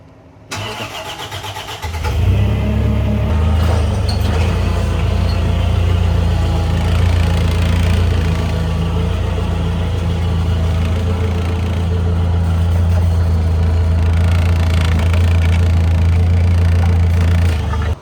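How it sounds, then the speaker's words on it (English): A forklift engine starts after a short quiet moment, then runs at a steady, loud, close idle with a deep low rumble that holds until the end. "Let's use that forklift."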